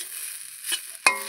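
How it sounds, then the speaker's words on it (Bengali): Snake gourd frying in a little oil with black cumin, garlic, onion and salt gives a soft, steady sizzle broken by two quick scrapes of stirring. "এই যে চিচিঙ্গাটা ভাজছি"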